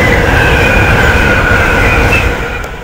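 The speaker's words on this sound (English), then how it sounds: "Here comes the Glasgow Euston. Another Pendo." A Pendolino passenger train speeds through a station at Nuneaton, a loud, close, continuous roar of wheels and rail noise with a high squealing whine, easing slightly as it passes.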